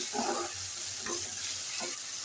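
Mustard paste frying in a pan for a three-lentil achari dal gives a soft, steady sizzle, with a few brief stirring scrapes rising above it.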